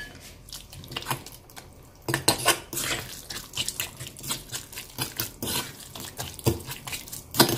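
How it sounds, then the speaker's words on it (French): A tuna and egg mini pizza filling is stirred in a bowl, giving repeated close clinks and scrapes of a utensil against the dish in an uneven rhythm. "Je mélange bien."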